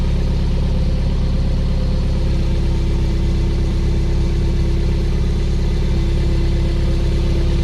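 A 2003 Toyota MR2 Spyder with a TRD exhaust and AEM cold air intake idles steadily with a deep, rumbling exhaust note and a low, even drone throughout, close and loud.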